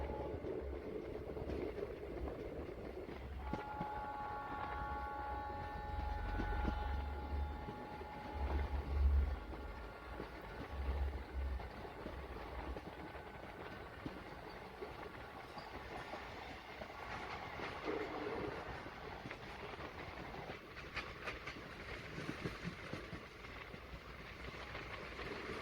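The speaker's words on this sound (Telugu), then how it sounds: "సో మన ట్రైన్ అయితే షార్ప్ కర్వ్ కొడుతుంది." The 58506 Gunupur fast passenger train rounds a sharp curve near Tekkali. A constant rolling rumble runs throughout, and for several seconds a sustained metallic wheel squeal sits on top. No one speaks.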